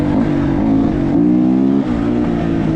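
A KOVI 300 Lite R motorcycle pulls hard in third gear, its engine a loud, steady, close droning roar with a slight pitch rise, no voices.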